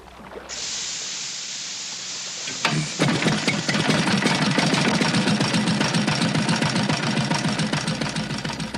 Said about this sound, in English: The solution is to feed pure oxygen into the carburetor.